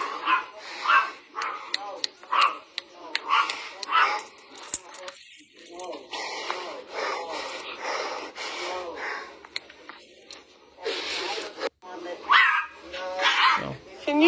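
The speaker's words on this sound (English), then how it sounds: "carrying her dog, who's barking while in the store" A small dog barks repeatedly inside a store while being carried, sharp yips and barks coming close and loud between stretches of people arguing.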